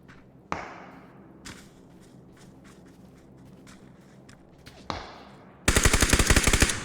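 Video game gunfire: sharp single shots crack out near the start and again midway over a steady background hum, then a loud, rapid burst of automatic fire closes the clip.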